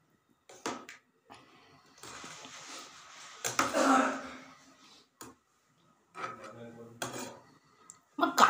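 Chicken is mixed with dry chili powder in a pot, with intermittent scraping, rubbing and light clinking of a utensil against metal in separate bursts broken by short pauses.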